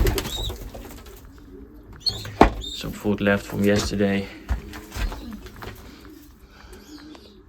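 Racing pigeons coo softly in a loft, with a few sharp knocks and fluttering sounds nearby while someone talks over them.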